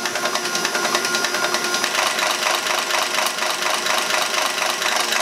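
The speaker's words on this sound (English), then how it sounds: "Basically now I'm just waiting for some of the air to get out of the pump, make sure that it's full of fluid." A Stanadyne diesel injection pump for an International wheel loader runs on a test bench, giving a steady, loud mechanical chatter with a fast rhythmic ticking throughout, close up with no talking.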